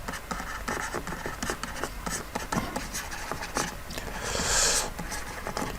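Close scratching of a pen or chalk writing out a logarithmic equation for an algebra lesson, in quick irregular strokes with short pauses and a brief brighter scrape near the end.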